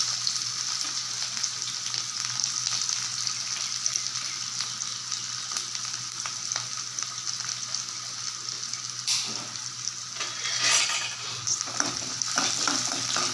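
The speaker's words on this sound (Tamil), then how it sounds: "இது போட்டாச்சு இதுவும் பொரியட்டும் நல்லா பொரிஞ்சிட்டு வெங்காயம் போட்டுக்கலாம்" Whole cinnamon and cloves fry in hot oil with a steady, close sizzle and fine crackle, broken near the end by a few brief clinks and stirring noises.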